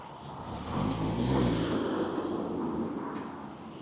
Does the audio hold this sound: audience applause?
no